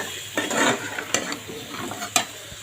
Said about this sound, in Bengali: এখন আলু দিয়ে কষিয়ে নেব, সিদ্ধ করা আলু।